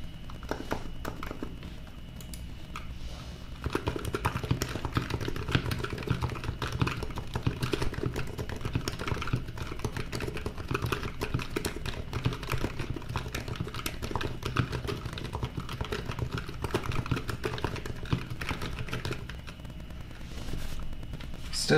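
A Razer Huntsman Mini keyboard with linear switches is typed on at a fast pace. A busy, unbroken stream of close keystroke clicks runs for about twenty seconds, with no speech.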